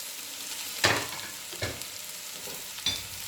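Finely chopped cabbage goes into a hot pan with capsicum and French beans for a chicken spring roll filling, giving a low background sizzle broken by three sharp clattering stir strokes, close and without speech.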